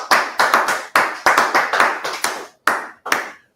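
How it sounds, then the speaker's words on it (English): A class claps hands together in several short, loud bursts of applause, close and dense, with brief pauses between rounds and no talking over it. "Clap it up."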